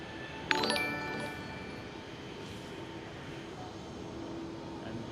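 An airliner turning and starting its takeoff roll at Schiphol gives a distant, steady jet roar, opened by a brief metallic clink, with faint background noise throughout.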